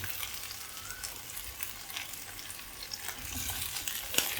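Green mango pieces sautéed in a hot pan with curry leaves for a Kerala-style ozhichu curry: a steady, close sizzle with soft scraping and stirring noises, and a slightly livelier crackle near the end.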